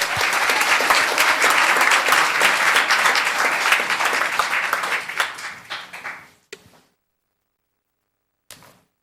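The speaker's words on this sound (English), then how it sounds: "Thank her and a round of applause." Applause fills a town council chamber after the Pledge of Allegiance, loud and dense for about six seconds before it trails off into silence, followed by a couple of brief knocks.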